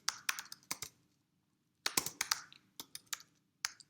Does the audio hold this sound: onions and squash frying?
no